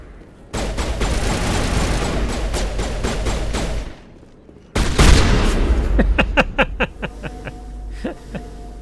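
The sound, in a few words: shotgun fire in the video game Mass Effect 1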